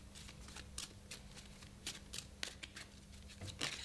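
A deck of playing cards is shuffled by hand, giving faint, quick riffling and flicking bursts in an irregular rhythm over a low background hum, with no talking.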